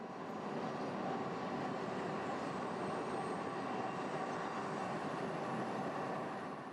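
A train climbs north from Spence's Bridge into the interior plateau, a steady, distant rumble of rolling wheels and engine that holds evenly throughout with no voices.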